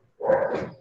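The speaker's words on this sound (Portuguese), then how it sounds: "Desculpa o cachorro tudo latindo" A dog gives a single short, close bark indoors during a home-office lesson, loud and alone without talk over it.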